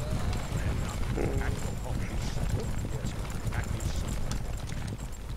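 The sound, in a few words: galloping horses in video game WarCraft: Armies of Azeroth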